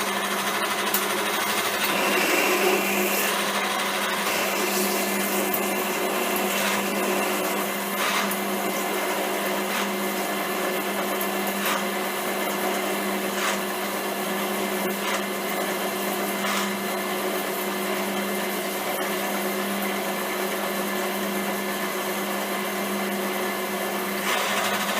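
A metal lathe drills about one inch into a workpiece, giving a steady, continuous mechanical whine and hum that holds evenly for the full stretch, close up, with no talking.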